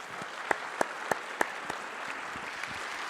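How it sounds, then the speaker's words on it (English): A burst of audience applause for panelists after a panel discussion, with a few sharp, distinct claps standing out early, settling into a steady patter of hands. "Let's give a big round of applause for the panelists"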